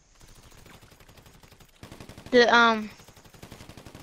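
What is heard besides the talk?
gunshot through a wall in video game GTA 5 Online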